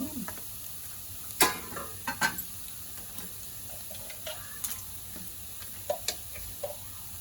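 Potatoes for a homemade aloo fry sizzling in a pan and stirred, soft continuous frying hiss broken by scattered scraping clicks of a spatula, close and without talk.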